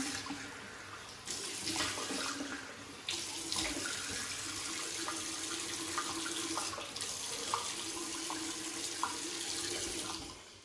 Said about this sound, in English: let's wash this off and get to the post.